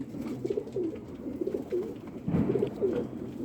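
A Kasuri Lahori female pigeon coos in soft, repeated low throaty phrases close by, over a steady background hum.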